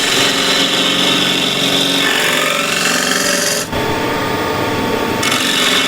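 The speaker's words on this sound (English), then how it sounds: "Let's make it a little bit wider. I need the spindle gouge." Spindle gouge cutting a spinning apple wood blank on a lathe, a steady close rasping scrape over the motor's hum, the cut easing briefly partway through then resuming.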